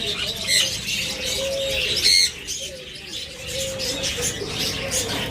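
Pet birds such as forpus, lovebirds, cockatiels, budgerigars and finches call in a caged bird shop, a busy mix of chirps, tweets and soft coos with some wing flutter, fairly close and continuous.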